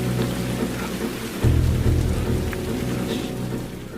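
Steady rain falls through a dark night scene in the film Unstoppable, a dense even hiss holding at moderate loudness throughout with a low rumble underneath and no voices.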